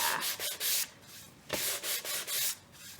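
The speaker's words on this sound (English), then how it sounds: "If I sanded a little bit harder, it would look like it was part of the board, and I think I'm going to do that." Sandpaper rubs over a painted wooden cutting board in a series of close, scratchy back-and-forth strokes, each a short rasping swish with brief pauses between, and no one talks.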